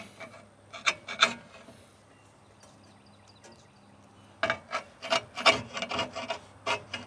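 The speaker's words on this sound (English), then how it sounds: "Just taking a flat blade screwdriver. I'll clean out this channel." Flat blade screwdriver scraping and rasping along a convertible top frame channel, clearing out old cardboard: bursts of gritty scrapes near the start, a quiet pause, then a denser run of close, irregular strokes.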